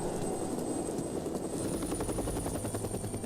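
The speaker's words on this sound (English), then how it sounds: "There's a helicopter looking for us." Helicopter searching overhead in the video game Syberia III, a steady rhythmic rotor chop with a low engine drone, fairly close and continuous, heard on its own without talk.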